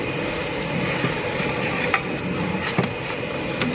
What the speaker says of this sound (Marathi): तर हे मिश्रण चांगलं आपल्याला परतून घ्यायचं आहे.